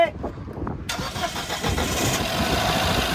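A petrol Mahindra Scorpio N's engine cranks briefly, catches and settles into a steady, loud idle close by after diesel was put in its tank, with voices talking around it.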